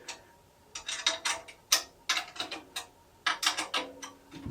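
Series of short ratcheting clicks from a drum key turned a little at each lug while tuning a new DW acrylic drum head, coming in quick clustered bursts with brief pauses between, close and fairly clear.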